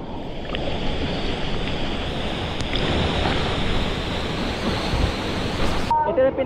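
Utod Falls in Magallanes, Cavite, pours into a river with a steady, loud broadband roar of falling water from start to finish. The sound stays dense and constant, with no talk over it.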